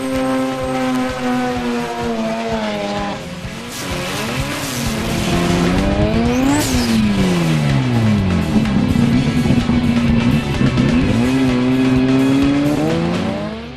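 A cold Mazda RX7 rotary engine revs hard again and again, its pitch sweeping up and falling back in loud, continuous waves with a raspy, high-revving howl.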